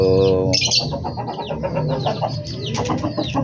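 Domestic pigeons kept alongside chickens and other birds chirp and call continuously, a dense, close chorus of overlapping tweets and clucking-like notes with no talking.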